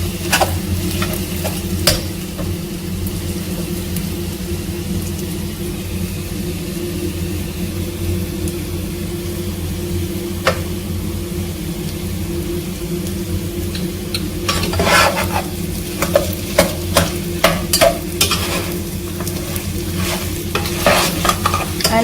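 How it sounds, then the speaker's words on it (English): Sai, a traditional Uttarakhand sweet, is stirred in a pan as its sugar caramelizes: a steady sizzle and frying hiss under a low rumble, with a spoon scraping and clacking against the pan in bursts, especially in the second half. "And then after that we have to keep stirring."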